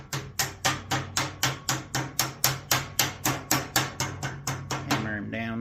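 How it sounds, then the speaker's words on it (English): A thumping stick hammers down HVAC sheet metal in a steady series of about sixteen sharp, evenly spaced metallic knocks, close and loud, ending in a brief scrape and ringing tone. "Hammer him down like a so. Bring that up all the way. Hammer it back down."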